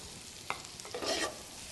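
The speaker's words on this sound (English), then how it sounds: "starting to heat up a little butter. And we're going to crisp up the prosciutto" Prosciutto, a dry-cured pork, crisping in hot butter in a pan: a short sizzle and a couple of brief stirring scrapes, close and fairly quiet, with no talk.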